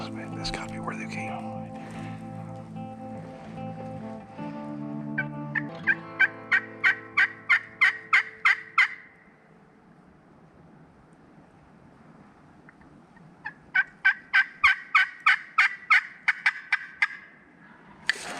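Eastern wild turkey toms gobble in two loud rattling bursts from the woods of Michigan during a spring hunt, each a rapid series of sharp notes, with quiet whispered talk and soft wind between them.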